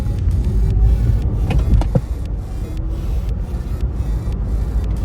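An electric car pulls away after a motorway toll, giving off a steady whine under road and cabin rumble for a few seconds, close and moderately loud, with a couple of short higher tones rising near the start.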